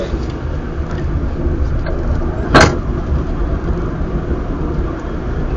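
A car engine cruises in third gear on a driving test, a steady, loud cabin drone with one brief sharp click partway through and no speech.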